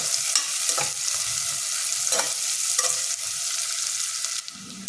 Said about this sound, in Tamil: இதை வதக்கிக்குவோம் வெங்காயம் வந்து கண்ணாடி பதம் வதங்கினா போதும்